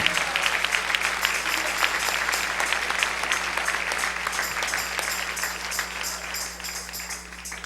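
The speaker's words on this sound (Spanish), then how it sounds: "Dale un aplauso al Rey en esta preciosa noche." A church congregation breaks into sustained applause during an evening service. The clapping is full and steady, with a constant low hum underneath, and eases slightly toward the end.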